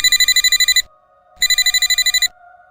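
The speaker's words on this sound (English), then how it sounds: "Then my work phone rang." A work phone rings loudly and close, two bursts of rapid electronic trilling with a short silent gap between them and a faint hum after each.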